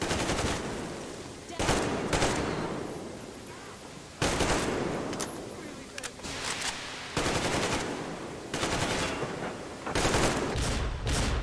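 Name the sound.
gunfire in Metro Exodus video game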